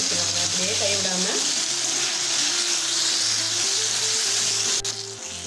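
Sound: sautéing tomato chutney ingredients in a pan

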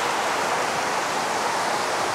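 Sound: heavy rain pouring down stadium stairs

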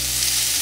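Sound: onion frying in a pan

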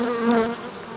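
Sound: honeybees buzzing at the hive entrance

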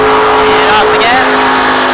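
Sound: race car engine as driver lifts off the throttle

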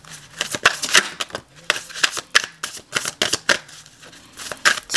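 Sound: shuffling new tarot cards

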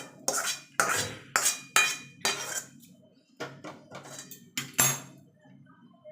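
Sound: taking pot of boiled mung dal off the stove

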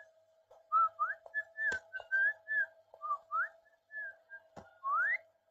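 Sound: man whistling a tune as he walks

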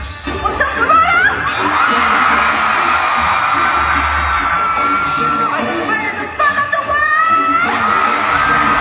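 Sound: Toronto fans cheering at stadium concert

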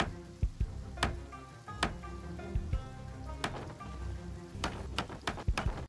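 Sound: rain falling in the video game Project Zomboid

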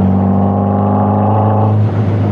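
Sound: Healey by Caton sports car engine while driving

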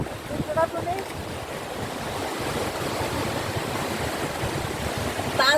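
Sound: sea waves roaring at high tide, Kuakata beach

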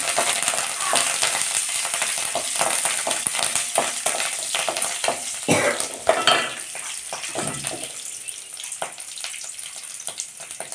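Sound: curry leaves frying with lentils in a pan

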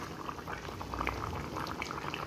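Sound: mango, potato and fish curry boiling in covered pot

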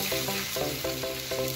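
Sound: Fanta boiling in a pan for Maggi

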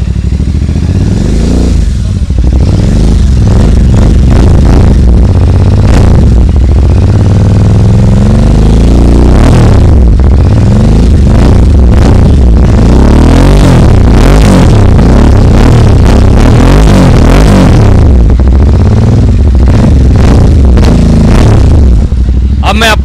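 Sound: Royal Enfield Super Meteor 650 with Hurricane exhaust revving

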